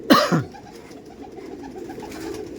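Madrasi pigeons of the Chennai breed, tournament quality, coo at a seller's loft: a loud close flutter or call at the start, then soft repeated low coos continuing quietly under room noise.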